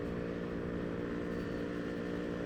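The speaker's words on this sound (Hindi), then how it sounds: "ये ऐसा सुपर बाइक का आवाज़ सुन के ना" A superbike engine running in a steady, continuous drone with a dense low rumble and a layered harmonic whine, held at an even level without clear revving, fairly faint and with no voices.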